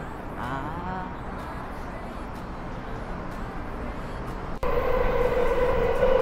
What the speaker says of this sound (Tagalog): Nasa tren na kami ngayon.